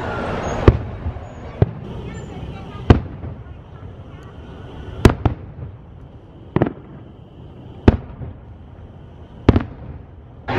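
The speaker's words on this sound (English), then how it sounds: "the fireworks just ended" Fireworks show at Disney's Magic Kingdom: about eight sharp, booming bursts spaced a second or two apart, echoing at a distance over crowd murmur and ambient noise.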